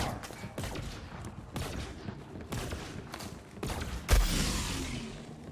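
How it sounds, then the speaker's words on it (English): Gunfire in the shooter game Borderlands 3, with bursts of rapid shots and mechanical clatter and a louder blast near the end. "Those better not be guns I'm hearing."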